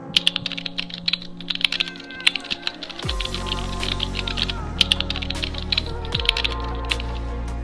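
Rapid typing on a computer keyboard, crisp clicking keystrokes in quick irregular runs, close and clear, over a low steady background hum.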